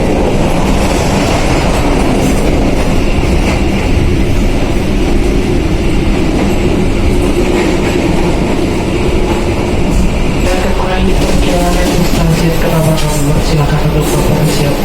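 Inside the restaurant car of the Mutiara Timur night train on the Surabaya–Banyuwangi line, a loud, steady rumble and rattle of the moving carriage fills the space without a break, with no voices.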